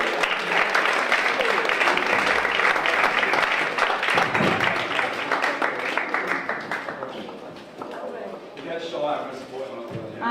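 An audience at an under-25 film event applauds as a speaker is welcomed to the stage, sustained dense clapping from a crowd that tapers off toward the end, with a voice briefly heard over it.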